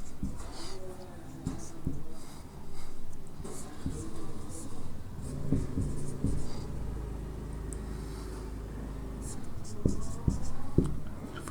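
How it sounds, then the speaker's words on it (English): A pen scratching out chemistry reaction products by hand, close and continuous with short taps and strokes for several seconds, soft background noise underneath. "I will directly write the products."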